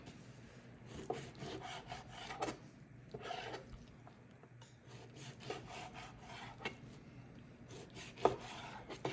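Knife slicing through a rack of pork ribs, cutting between the bones, a series of quiet scraping, rasping strokes with a few soft knocks on the board, faint and close.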